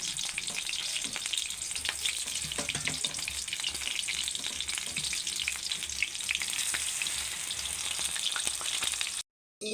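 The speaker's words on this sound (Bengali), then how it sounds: "এখানে তেল গরম হয়ে গেছে, এবার তেলের মধ্যে দিয়ে দিচ্ছি। এইভাবে একে একে সবগুলো ভেজে নেব।" Chicken satay pieces frying in hot oil give a continuous close crackle and sizzle with scattered sharp pops, running steadily throughout before a short drop to silence near the end.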